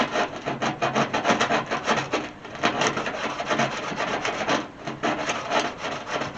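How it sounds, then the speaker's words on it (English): Hand sanding on a body panel of a 1968 AMX during A-pillar and fender-to-door gap repair: steady rapid back-and-forth rasping strokes, close and loud, with no voices. "it's easy enough to just sand this stuff out."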